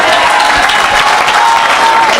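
Congregation at a French-language evangelical worship service applauding together, a dense, steady wash of clapping with crowd noise filling the whole moment.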